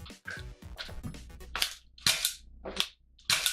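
An X Shot Fury 4 toy dart blaster fires several sharp, close snapping shots in quick succession, each a loud crack with brief mechanical clicks in between.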